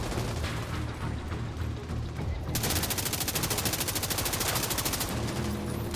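Rapid sustained automatic gunfire in a shooter video game, a long dense burst emptying a magazine, loud and continuous with a steady crackle of shots over background action.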